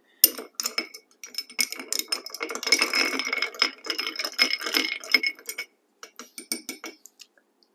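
Ice clinks and rattles in a glass while a whiskey Old Fashioned is stirred, a rapid stream of close, bright chinks that runs for several seconds, pauses, then returns in a few lighter taps.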